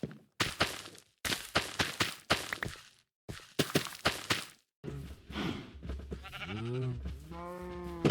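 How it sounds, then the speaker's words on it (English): In the video game Lunaria, several short bursts of broadband rustling noise, then a loud, wavering sheep bleat with strong harmonics, continuing to the end. "And there are our sheep now."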